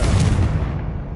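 A Confringo spell blast in Hogwarts Legacy gameplay: one loud, sharp explosive burst that decays quickly into a rumbling tail, with no voices.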